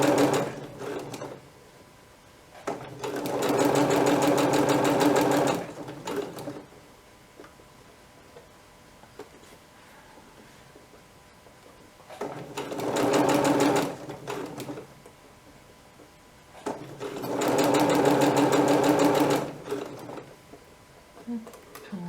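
A sewing machine stitching fabric for a straight dress runs in three bursts of a few seconds each, a fast, even mechanical whir with quiet gaps between.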